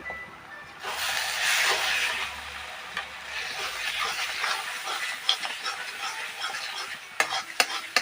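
A paneer and spice mixture is stirred and fried in a wok, giving a steady close hiss of sizzling with scraping spatula strokes. Sharper clicks come near the end.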